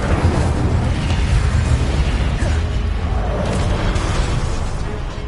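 A fire spell cast in Hogwarts Legacy on PS4, a dense sustained roaring burst of flame with boomy low rumble, loud and continuous throughout, fading slightly at the end.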